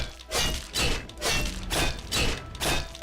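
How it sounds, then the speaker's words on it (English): Blade of Woe striking an enemy in Oblivion, a run of about six dull, heavy thuds at a regular swinging rhythm, each with a short rough tail, no speech. "I'm just gonna swing this little blade of woe at him forever"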